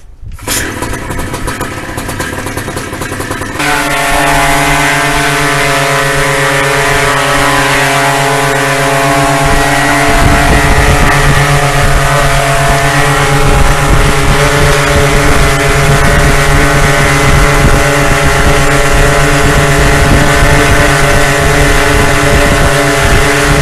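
A Minari 200cc paramotor engine spins its propeller on a thrust-test rig, starting with a short lower idle before jumping to a loud, steady, droning high-rev roar with a strong buzzing hum that holds to the end.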